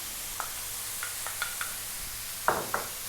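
Carrots and onion fry in a pan with a soft steady sizzle, broken by a few light clicks and a pair of louder stirring scrapes near the end.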